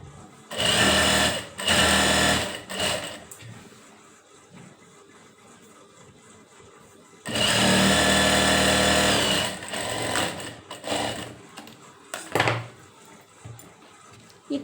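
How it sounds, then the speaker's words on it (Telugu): A nearby sewing machine stitches a Punjabi dress in two long loud runs with quieter pauses between them, and short shuffles of cloth and machine handling follow. There is no talking. "ఇక్కడ నుంచి మనం చిన్నది 1/2 ఇంచి వగ్గేసుకొని మళ్ళీ కుట్లు వేసుకొని రావాలి"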